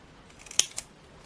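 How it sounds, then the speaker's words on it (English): Scissors snip through craft paper from a deluxe craft pad while making a cutaway card, giving one sharp close cut followed by a second softer snip over a quiet room. "so I'm gonna snip"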